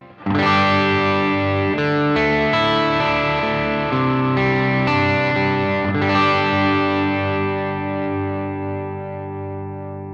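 Clean PRS DGT electric guitar on the middle pickup, no drive, rings out alone, a few chords and single notes strummed with a bright, chorus-tinged shimmer that slowly fades over ten seconds.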